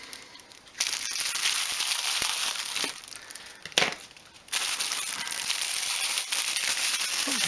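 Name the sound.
opening a plastic bag of a car cleaning kit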